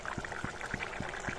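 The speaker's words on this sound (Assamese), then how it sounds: "মই 10 মিনিট সময় এনেদৰে আঞ্জাখন উতলিলে" Magur fish curry with olkobi bubbling in a pot, a steady close simmer with regular low pops and a continuous liquid hiss, no voices.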